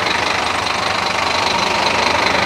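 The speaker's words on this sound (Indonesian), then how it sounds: "Suaranya Scania banget ya." A Scania K450CB bus engine idles with a steady, dense rumble and a faint knocking texture, holding an even level from start to finish without any voices.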